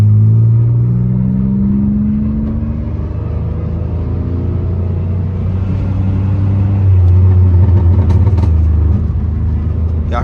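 Muffler-deleted Pontiac Grand Prix GT rumbling loudly through its open exhaust with a deep, steady drone that swells as it accelerates, heard from inside the car during a drive.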